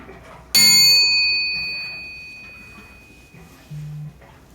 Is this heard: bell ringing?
yes